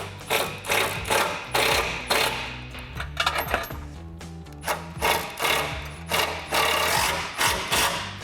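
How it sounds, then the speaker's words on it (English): A socket ratchet with a 16mm socket tightens nuts on the bolts of an aluminum front bumper on a Jeep Gladiator JT, with steady repeated clicking strokes, close and clear, and small metal clinks in between. "we can take a 16mm socket on our bolt side with a 17mm wrench on our nut side to tighten down our nuts"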